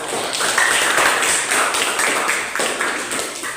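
A small group claps for a classroom presentation, a short burst of steady, close applause that holds evenly for a few seconds before thinning slightly at the end.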